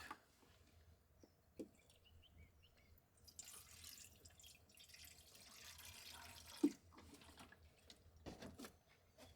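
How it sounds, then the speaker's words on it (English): Water is poured into a pot of beef stock at a remote bush free camp, a soft trickling and dripping pour with a few faint clanks, fairly quiet against outdoor background. "Add a touch more water."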